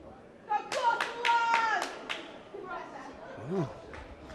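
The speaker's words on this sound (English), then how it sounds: "Brave effort, clapping by himself." A lone person clapping at a sports medal collection, a quick burst of sharp claps near by, followed by quieter voices and a child's rising call.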